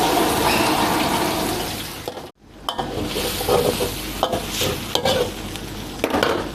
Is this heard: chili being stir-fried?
yes